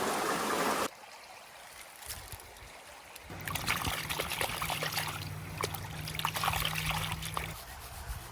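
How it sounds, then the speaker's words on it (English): Close, continuous swishing and trickling as river gravel and sand are panned in water, with sloshing and small splashes under a steady watery hum. "We'll pan that out."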